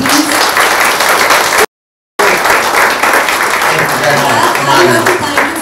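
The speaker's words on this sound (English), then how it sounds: "please can we all give a huge round of applause for Brad, please?" Audience applause for Brad Cohen, the real-life inspiration behind Hichki, fills the room as dense, steady clapping. It breaks off for a moment of silence and then resumes, loud and sustained.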